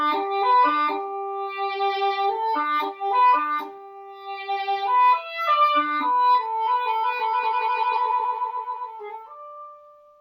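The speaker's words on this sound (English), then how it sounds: "Maybe one of the most recognizable melodies that the English horn gets to play is from William Tell. It sounds like this." An English horn plays the William Tell melody, a clear reedy solo line with quick repeated galloping notes followed by a longer sustained phrase, heard alone with no talk.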